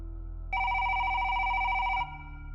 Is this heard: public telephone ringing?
yes